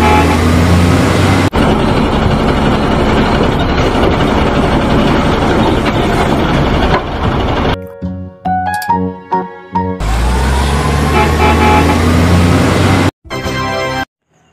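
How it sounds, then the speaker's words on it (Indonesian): A garbage truck's engine rumbles loud and steady, then gives way to a brief stretch of scattered tonal beeps and clanks. The heavy drone comes back, and the clip ends with one final short mechanical burst. "Truk sampah, truk pengangkut sampah."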